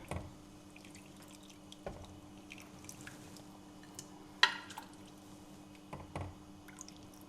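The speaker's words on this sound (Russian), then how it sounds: "Наливаем вот в такие вот тарелочки" Home-cooked borscht is ladled into plates in a kitchen, with faint soft drips, splashes and small clinks of ladle on dish scattered across a quiet background.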